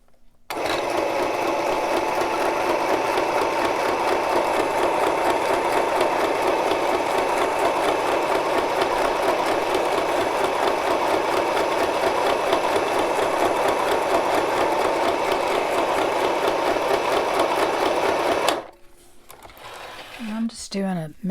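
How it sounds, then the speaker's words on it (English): Steady, fast mechanical whir of a sewing machine running a straight stitch around a fabric Christmas bag, continuous and close for most of the span before stopping, followed by a few quiet handling sounds. "I'm going to go ahead and sew around it."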